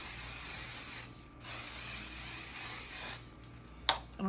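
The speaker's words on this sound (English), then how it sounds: "Let's spray with some hairspray." Hairspray misted over freshly curled hair, two long hissing spray bursts close by, followed by a brief clatter of handling.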